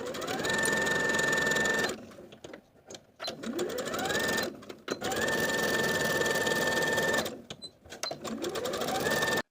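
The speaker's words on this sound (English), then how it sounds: "Sew or serge the underarm seams with a 1/4 inch seam allowance." A sewing machine or serger runs in long bursts, stitching the underarm seams of a T-shirt with a quarter-inch seam allowance, steady and close with two short pauses between runs.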